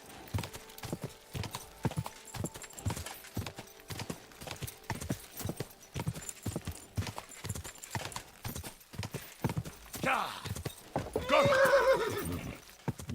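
Horse hooves clip-clop in a steady, close rhythm through Kingdom Come Deliverance II gameplay, with a loud whinny rising near the end.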